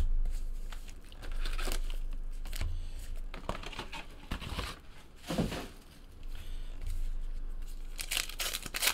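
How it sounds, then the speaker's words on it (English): A 2018 Topps Heritage baseball card pack being ripped open, heard as a close, continuous crinkly tearing and rustling of foil wrapper with several sharper rips, quiet and with no talking. "We'll break that pack open."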